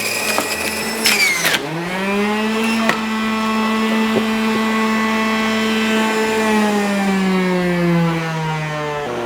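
A Breville Juice Fountain Cold XL juicer runs with a steady, loud motor whine that catches as produce is fed in at the start, then holds an even, slowly falling tone, with no talking.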